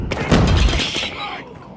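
Gunfire in a Call of Duty match: a burst of loud, heavy shots and thuds packed into about a second, fading into quieter game noise.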